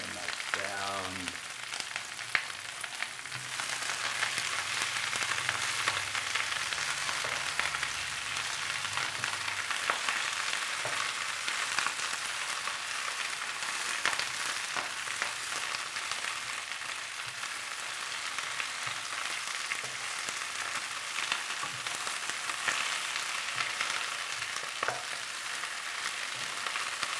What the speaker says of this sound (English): Let that stir fry for a little bit and we'll come back.